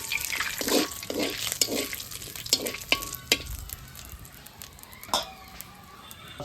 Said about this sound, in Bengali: কটা গোটা জিরা দিয়ে দেব